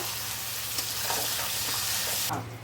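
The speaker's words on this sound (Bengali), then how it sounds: "কড়াতে জিরে তেজপাতা ফোড়ন দিয়ে আলু পেঁয়াজ দিয়ে ভাজছি ভালো করে" Potatoes and onions fry in a wok with cumin seeds and bay leaf, a loud, steady close sizzle with faint stirring scrapes throughout and no talking, easing off slightly at the very end.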